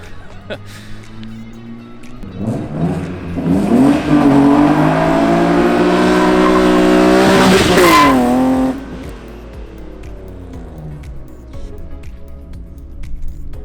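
Loud tire skid from a BMW E36 325i with M52 engine and M3 throttles, both wheels locked, a rising screech over engine noise for several seconds before it fades back to idling.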